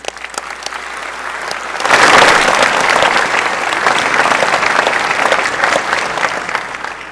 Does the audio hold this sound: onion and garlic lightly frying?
no